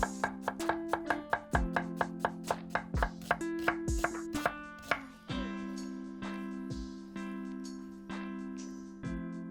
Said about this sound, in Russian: Нарежем полукольцами.